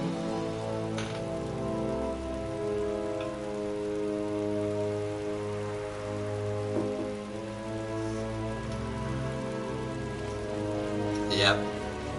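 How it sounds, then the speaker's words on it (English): Steady rain patters across surfaces in the Final Fantasy XII video game, a constant hiss layered over sustained low music tones, with occasional sharper drops and a brief crackle near the end. "it's raining now"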